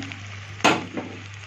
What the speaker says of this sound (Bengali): পেঁয়াজটাও মোটামুটি ফ্রাই হয়ে গেছে।